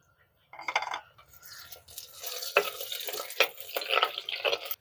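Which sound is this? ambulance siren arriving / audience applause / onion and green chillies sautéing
onion and green chillies sautéing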